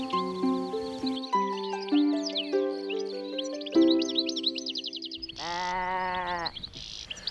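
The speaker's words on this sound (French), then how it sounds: "La brebis qui vient de bêler" A ewe, the flock's lead sheep, lets out one loud, close, drawn-out bleat near the end, after several seconds of soft melodic tones.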